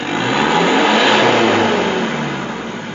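Diesel engine of a Toyota Vigo pickup revving hard and steadily near the mic during a black smoke test, a broad loud roar swelling then easing slightly over three seconds with no talk.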